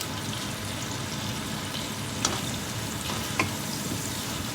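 Steak frying in a pan, a steady close sizzle with a couple of brief sharp crackles and pops partway through.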